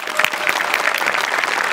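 A studio audience at the Maharashtrachi Hasyajatra comedy show breaks into loud, dense applause after a mimicry performance, continuous clapping with a faint crowd murmur throughout.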